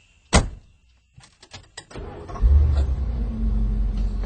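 Car doors thump shut as two people climb into the back of a young man's car, a sharp close slam followed by softer thuds, then a low engine rumble starts and settles into a steady idle.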